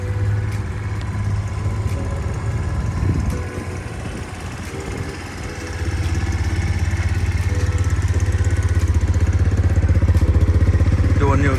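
A new Boom Vader BD-125 Grom clone motorcycle, just assembled and fueled with premium, runs at a steady idle. Its low, even engine drone continues throughout, with a brief dip midway.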